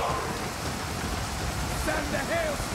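Steady rain over a Total War: Pharaoh battlefield, a dense broadband hiss with scattered high chirpy effects near the end, continuous and fairly loud with no clear voice.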